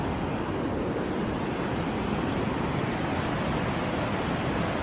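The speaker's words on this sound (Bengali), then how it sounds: "এখানে জলের স্রোত একদম বিশাল" A strong river current rushes past near Manali, a dense, constant roar of water that fills the whole stretch without a break.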